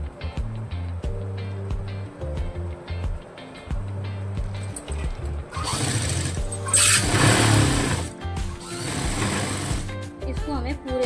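A sewing machine stitches the pocket of a palazzo, running in bursts of steady, fast mechanical whirring with short pauses between passes while a voice talks over it.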